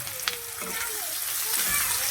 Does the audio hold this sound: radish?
yes